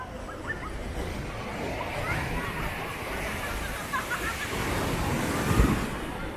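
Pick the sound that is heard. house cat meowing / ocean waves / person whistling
ocean waves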